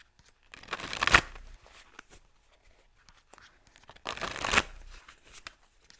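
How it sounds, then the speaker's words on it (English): Two quick riffle bursts of a Shaman Dreams tarot deck being shuffled, each a crisp papery flutter lasting under a second, close and fairly quiet with near silence between them. "I actually want to pull one more card for you. I'll do the Shaman deck here again."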